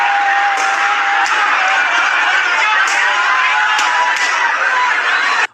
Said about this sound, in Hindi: स्टोर खुलने से पहले हजारों हजार की भीड़ जमा हो गई।